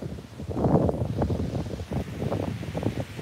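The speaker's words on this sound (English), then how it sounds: "It's too windy out here." Strong wind blowing outdoors beside a parked car, a steady roaring rumble buffeting the microphone with gusty swells throughout and no speech.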